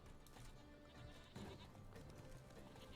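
Several goats bleat in quick, wavering cries in the video game Witcher 3: The Wild Hunt, fairly close, repeating over a few seconds against a low background murmur.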